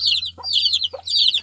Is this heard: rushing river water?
no